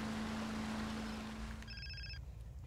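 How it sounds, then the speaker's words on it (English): Phone rings in GTA San Andreas: after a sustained low hum fades, a short electronic ringtone trills once over a soft background wash. "Phone call."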